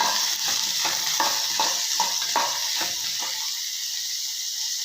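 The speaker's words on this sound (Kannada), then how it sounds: "ಈರುಳ್ಳಿ ಚೆನ್ನಾಗಿ ಹುರ್ಕೊಳ್ಳೋಣ" Onions and curry leaves frying in a pan, a bright continuous sizzle broken by a run of rhythmic spatula strokes that fade out near the end, no voices.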